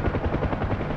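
Helicopter rotor in a video game with rotor RPM dropping, a rapid rhythmic chop over a low engine drone, loud and close, with no talking.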